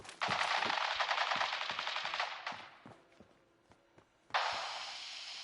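Automatic gunfire in Fallout 4, sustained loud bursts of rapid shots, a lull with scattered single reports, then another heavy volley.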